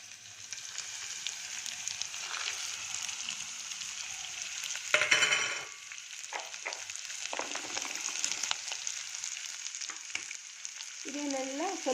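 Sprouted horse gram, raw mango pieces and jackfruit seeds frying in a pan give off a steady sizzle, broken by clatters of stirring, with a louder burst of sizzling partway through.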